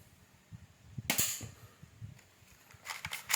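A single sharp gunshot at target shooting, a mid-distance crack with a brief noisy tail, followed by quieter follow-up rattle and faint ambient thumps.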